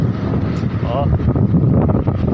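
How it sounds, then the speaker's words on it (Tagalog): Strong wind buffets the microphone in a steady roar, with a voice briefly audible underneath. "Ibig sabihin malakas yung hangin"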